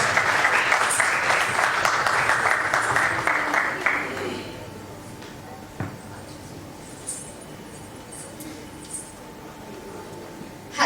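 Applause rises for an award winner at a corporate rewards ceremony, steady clapping for about four seconds that then cuts off, leaving a quiet hall with a low hum, a few isolated knocks and murmurs.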